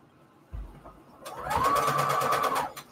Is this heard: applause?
no